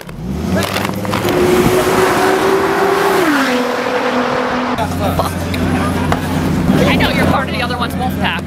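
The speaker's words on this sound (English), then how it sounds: "Let's burn some tires." A car burns its tires during a Gumball 3000 rally, its engine revving hard and loud with a rising, shifting tone and gravelly roar from close by. Tire squeal and background voices and shouting run underneath.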